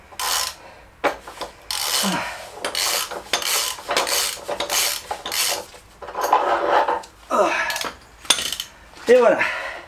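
A ratchet with a 32 mm socket forced onto an axial ball joint of a Peugeot 206, giving a series of harsh rasping clicks and metallic scrapes in bursts, with grunts of effort near the end.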